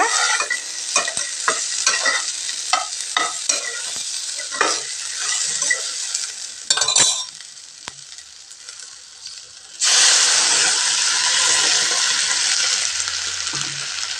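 Ground spice paste hitting hot oil in a pan with okra sizzles loudly and steadily, with repeated scraping stirs of a spoon at first, a brief quieter gap, then a fresh burst of intense frying hiss that stays strong.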